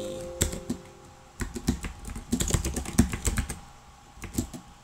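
Typing on a computer keyboard, close and clear: bursts of quick key clicks and clacks in an uneven rhythm, with short pauses between flurries and no voices.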